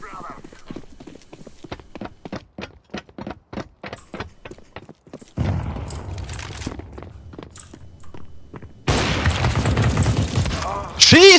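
Video game gunfire in a Counter-Strike-style Wingman match, a rapid rhythmic string of close shots followed by heavier bursts of fire and a loud final blast, with voices talking over it.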